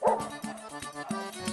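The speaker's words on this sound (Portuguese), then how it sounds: "Cala a boca, cachorro!" A dog barks repeatedly in quick, sharp bursts close by on a street in the Nova Esperança neighborhood, the yaps loud and steady across the moment with no talk over them.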